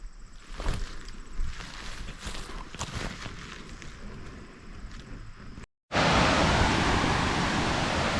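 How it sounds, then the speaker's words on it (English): Steady rushing water roars from a distant waterfall between Calimán Lake and Gibson Lake in the Boundary Waters, broadband and constant, with a brief cut before the rush returns louder and closer. "You can hear the falls between Calimán Lake and Gibson Lake."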